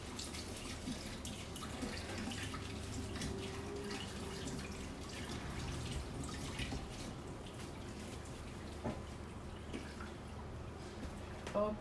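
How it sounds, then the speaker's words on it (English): Running tap water splashes steadily over a glove at a kitchen sink during apple crumble baking, a continuous broadband wash with faint drips and clinks, no talking. "let me wash my glove."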